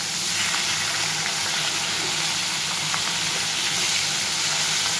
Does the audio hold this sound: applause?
no